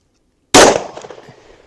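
A single loud handgun shot firing a hard cast bullet reload into ballistic gel, a sharp close crack after silence with a short reverberant tail dying away.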